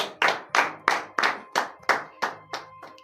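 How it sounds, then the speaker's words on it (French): Congregation clapping hands in acclamation during a morning prayer service in Benin, about nine sharp, evenly spaced claps in a steady rhythm, close and clear with no talk. "donnez de vives acclamations à l'Éternel"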